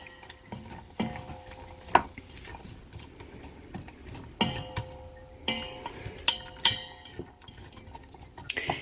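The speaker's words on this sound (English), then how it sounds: "do you hear that sizzle? That's what we want to hear." Onions sautéing in a pot for a warm spicy vegan chili, giving a soft, steady sizzle with a wooden spoon stirring and scraping against the pot. Several sharper knocks and clinks punctuate the frying at close range.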